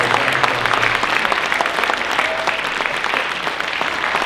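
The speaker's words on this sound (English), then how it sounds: "Nice round of applause." An audience at the 2015 Kurn Hattin Jazz Invitational concert claps steadily and fairly loudly, a dense wash of hand claps with no voices over it.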